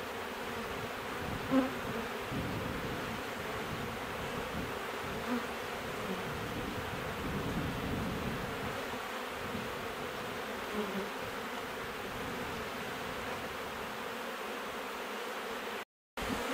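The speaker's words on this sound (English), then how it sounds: "I got a pretty good cluster of bees over here hanging out." Honey bees clustered on a hive frame give off a dense, continuous buzzing that stays steady and close throughout, with no voices.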